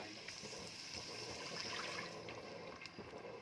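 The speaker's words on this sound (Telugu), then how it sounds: "వాటర్ పోస్తున్నాను" Water poured into soaked basmati rice in a cooking pot, a soft steady splashing stream, faint and continuous for a few seconds.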